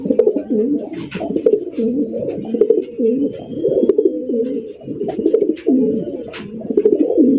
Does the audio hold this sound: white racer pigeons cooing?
yes